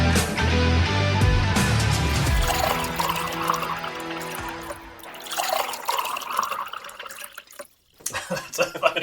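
Liquid pours into a glass in a bubbling, gurgling stream, fairly close, with clinks and room noise as it trails off.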